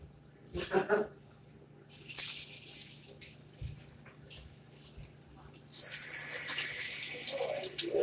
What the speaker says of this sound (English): Rinse off the outside of this onion.